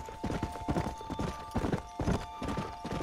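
Horse hooves clip-clop in an even trotting rhythm in the Western video game Red Dead Redemption, close and steady throughout, with no talk over them.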